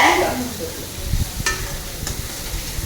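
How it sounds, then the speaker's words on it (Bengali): Spiced masala paste for a sour fish-roe curry is stirred and fried in a wok. Soft, close sizzling runs under scraping stirs, with a couple of sharp clicks of the spoon against the pan. "দিয়ে ভালো করে কষাতে হবে যতক্ষণ না তেল ছেড়ে আসে সাইড থেকে।"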